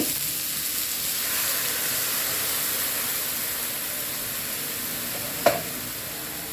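Catfish stir-fries with chili paste in a pan, giving a constant, even sizzle with one sharp clink of a utensil near the end.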